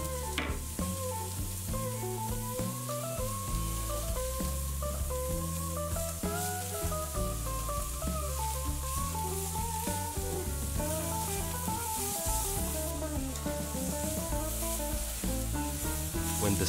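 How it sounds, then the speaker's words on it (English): Glazed flank steak sears on a grill with a loud, continuous sizzle that holds steady throughout, while music plays along underneath. "When the steak is seared perfectly on both sides, quickly turn it around a few more times and brush it with a glaze."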